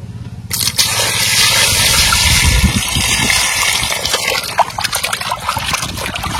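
Tap water runs in a steady, loud, close stream while hilsa fish pieces are washed under it, with scraping and splashing as the pieces are handled.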